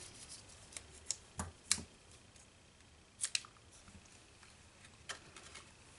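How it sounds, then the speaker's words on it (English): Sharp scissor snips trimming the edge of a handmade card with a stamped, embossed vellum panel, a few quiet separate cuts with soft paper rustle between them in a hushed room. "So I am just going to trim this edge just a bit."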